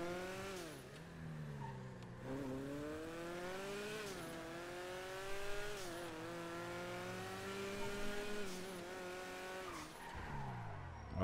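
A Grotti Stinger sports car in the game GTA 5 with upgraded brakes, its engine revving up and down through repeated gear shifts, with tires squealing through turns, continuous and close.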